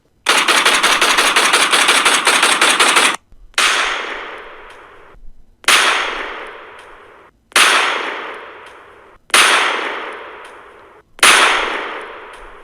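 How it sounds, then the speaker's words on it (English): Rapid automatic fire from an AK-47 striking the armored Batmobile, heard as a loud opening sustained burst followed by five sharp clanging impacts that each ring out and decay, evenly spaced. "one of them pulls out an AK-47 and begins to shoot at the Batmobile."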